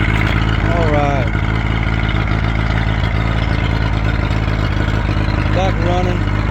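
A repaired engine, previously leaking at one bolt, runs steadily at a constant loud drone throughout, with brief whirring tones over the top.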